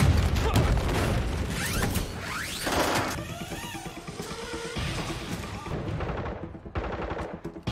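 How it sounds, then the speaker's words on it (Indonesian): A film gunfight erupts with rapid bursts of gunfire and sharp single shots, mixed with mechanical clatter and impacts, loud and dense throughout with a voice briefly audible. "Baku tembak segera terjadi."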